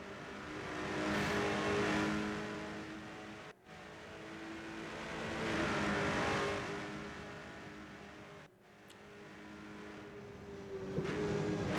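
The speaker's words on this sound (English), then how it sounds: "It's between the BMW of Pascal Jordan and the Aston Martin of Dominic Ladler." BMW and Aston Martin race cars in a sim racing game roar steadily, engine tones swelling and fading as they rise and shift through gears, with two brief cuts in the sound and no talk over it.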